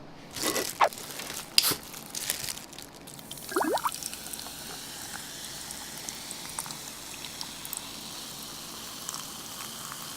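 Crunchy bites of Kyochon Honey Combo fried chicken, with a few sharp crunches early on and a brief chewing burst midway, then quieter near-mic mouth noise.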